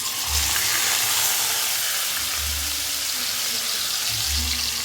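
Onion paste frying in a pan for paneer curry gives a steady, dense sizzle throughout, with soft low thumps of stirring now and then and no talk.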